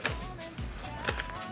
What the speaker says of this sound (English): If you hear tapping, that is the dog.